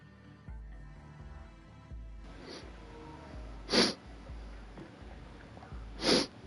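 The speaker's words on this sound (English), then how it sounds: "Sorry, had to sneeze." Two sharp sneezes burst out close to the mic around the middle and the end, each a short loud puff, over a quiet background with faint low tones.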